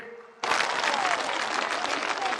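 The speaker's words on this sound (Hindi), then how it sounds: "एक बार जोरदार तालियों से इन लखपति दीदियों का सम्मान कीजिए।" A large rally crowd at a prime ministerial visit in Assam breaks into sudden loud applause after a quiet moment, sustaining dense, even clapping to the end.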